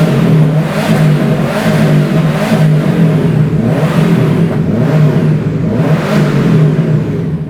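A turbocharged car engine idling with its exhaust removed, a loud raw droning rumble with a rhythmic pulsing rise and fall of revs roughly every second, close and steady throughout.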